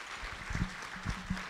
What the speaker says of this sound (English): let's have a big round of applause for all of our finalists.